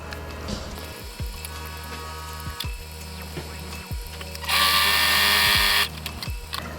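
Sewing machine stitching across fabric for a rat cube hammock, with a repeated mechanical whir and clatter in short runs. A louder burst of noise comes near the end. No one speaks.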